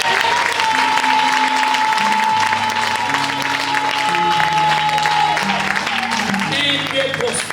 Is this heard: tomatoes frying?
no